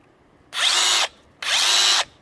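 A Ryobi PSBRH01 5/8-inch SDS hammer drill runs in two bursts of about half a second each, a loud, high-pitched motor whine that spins up and cuts off with a short pause between.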